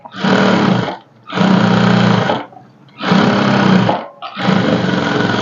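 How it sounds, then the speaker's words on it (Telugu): A sewing machine stitches along the edge of a blouse lining in four loud, steady whirring runs, each lasting about a second, with short pauses between them. "ఇలా ఎడ్జ్కి ఒక స్టిచ్ అయితే వేసుకోండి"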